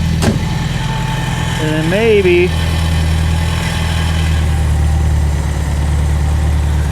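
A 1975 MGB that sat unused for sixteen years idles with a steady low rumble close up, while someone speaks briefly over it.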